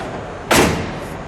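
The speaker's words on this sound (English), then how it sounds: "Let's shut the door, please. We'll shut the hood," One sharp, heavy slam rings out from a 1967 Plymouth Belvedere GTX with a 426 Hemi as a door or hood is shut at a muscle car show, close and loud against a quiet background.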